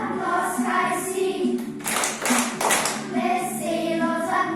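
Hands clap along to a cheerful Slovenian children's song at a stage show, a quick burst of claps rising over the sung melody and music before the singing carries on.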